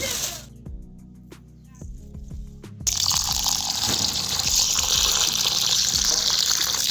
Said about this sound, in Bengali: চালের যে নোংরা জল বা ডালের সেইগুলো এইভাবে 3-4 বার ধুইব, ধুইলে বেরিয়ে যাবে।